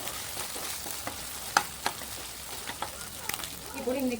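Okra curry sizzles and fries in a pan while being stirred, steady crackling frying noise with a few sharp spoon clicks, fairly quiet and close, a voice briefly heard near the end.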